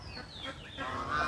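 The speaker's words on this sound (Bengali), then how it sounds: "এখানে কিছু বড় সাইজের রাজহাঁস আছে এবং কিছু ছোট আকারের রাজহাঁস আমরা দেখতেছি" Large and small domestic geese in a flock honk several times, nasal calls rising and falling close by with no talk over them.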